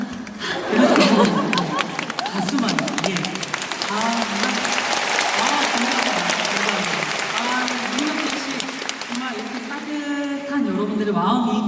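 An audience applauds at a classical opera-commentary concert of Verdi and Puccini music: steady, full clapping throughout, with a person talking over it and some crowd murmur.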